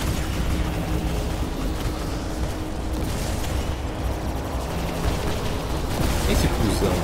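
Dense, continuous gunfire and explosions from War Robots combat on PC, a loud chaotic wash of shots and blasts filling the whole stretch, with a voice talking over parts of it.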